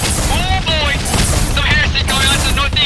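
Heavy weapons including plasma and tank fire erupt in Arma 3 with a Warhammer modded setting, loud booming bursts layered thickly under excited shouted voices throughout.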